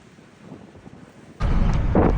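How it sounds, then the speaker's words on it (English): Strong wind on a coastal run at Berwick upon Tweed starts as a low rustle, then suddenly becomes a loud, rumbling gust that roars against the microphone. "Oh god, it's windy. It's really windy."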